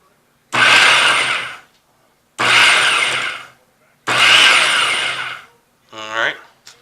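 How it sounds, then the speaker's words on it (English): Food processor pulsing chimichurri sauce: three loud, close bursts of motor whir, each about a second long with short silences between, followed by a brief voice. "it says pulse 2 to 3 times, and that's what we're going to do."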